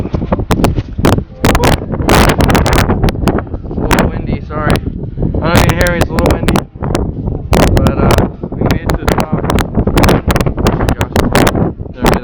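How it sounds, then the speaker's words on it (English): Wind gusts buffet the microphone on a mountain summit on Orcas Island, loud, close rushing bursts that come and go throughout while people talk over them. "Only hear the wind. Yeah, it's windy."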